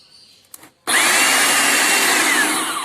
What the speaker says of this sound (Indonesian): Oke, kita hidupkan pompa.